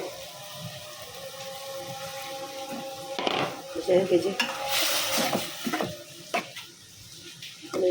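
Fish cooking in a pan with a splash of water in a home kitchen, a steady hiss and bubbling with a louder sizzling surge midway, a voice talking over it.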